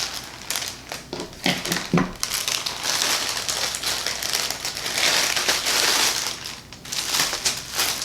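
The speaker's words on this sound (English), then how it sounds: "they're wrapped nicely in this tissue paper" Tissue paper rustles and crinkles while an underwear subscription package is unwrapped, close and fairly loud, with irregular crumpling bursts and handling noise and no talking.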